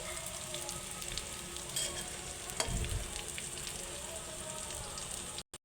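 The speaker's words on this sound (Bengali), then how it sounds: "একটু লাল লাল করে ভালো করে ভেজে নেব" Fish roe sizzles and crackles steadily in a frying pan, a close, continuous fry with a few louder pops near the middle before it cuts off abruptly.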